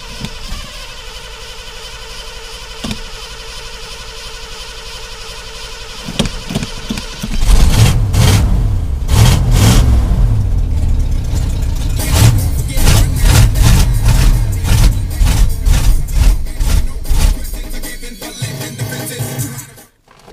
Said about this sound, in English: Fire up the pickup first.